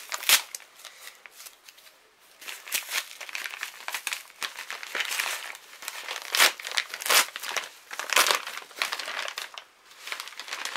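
A Colissimo paper envelope being torn open by hand, with close, uneven bursts of ripping and crinkling paper for about ten seconds and no talking.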